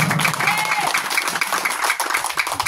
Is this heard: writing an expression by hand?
no